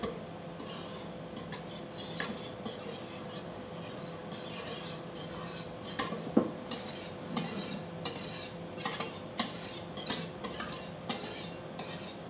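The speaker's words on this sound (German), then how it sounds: "Gebt nun das Eiweiß zum Teig dazu und hebt es mit einem Schneebesen unter." A whisk scrapes and taps against a bowl in uneven strokes while folding egg whites into crêpe batter, close by, with clinks of metal on the rim and no voices.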